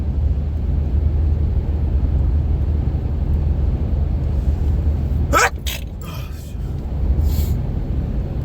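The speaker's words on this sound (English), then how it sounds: "That was a fucking cartoon sneeze." A single exaggerated, cartoonish sneeze bursts out sharply over a steady low background hum, followed by a few quieter trailing sounds.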